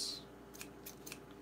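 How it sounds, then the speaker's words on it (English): Scissors snip through string wrapped around a handle: a few quick, faint, crisp cuts in an otherwise quiet room. "Take the scissors,"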